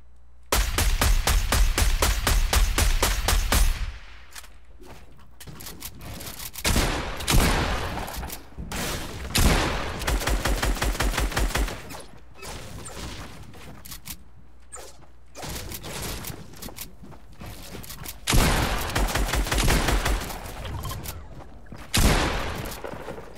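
Rapid automatic sniper rifle fire in a Fortnite-style battle royale game, loud bursts of quick repeated shots that come and go over about twenty seconds, with mechanical reload clatter between bursts.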